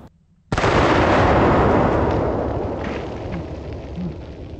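A single loud, close blast from a lightweight double-barrel sawed-off shotgun firing double-aught buckshot at 2-liter bottles, its boom ringing out and slowly decaying over several seconds.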